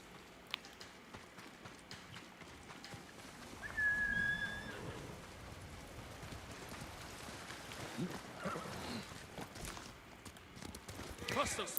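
Horse hooves gallop in the Ghost of Tsushima video game, a faint steady clip-clop rhythm under wind-like whistling and game ambience.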